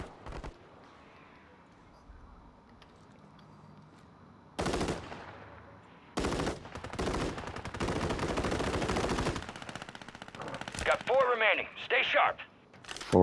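Rapid gunfire bursts and shots in Call of Duty Warzone, the video game, loud and repeated in clusters with silent gaps between them, and sharp sniper-like cracks near the end.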